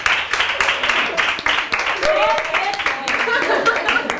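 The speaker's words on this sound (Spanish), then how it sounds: "un aplauso para ella" Lively clapping from a small group applauding a woman during a group interview in Alaquàs, steady and close throughout, with talking and light laughter mixed in.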